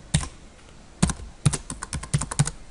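Close, clear keystrokes on a computer keyboard come in irregular bursts as a school name is typed, with short pauses between clusters of taps and no talking.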